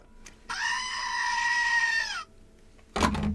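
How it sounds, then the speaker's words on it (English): A goat mascot gives one long, loud, nasal bleat lasting well over a second, followed after a short pause by a brief burst of other noise. "Are you ready for the goat?"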